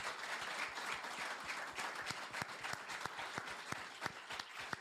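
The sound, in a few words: audience applause for panel speakers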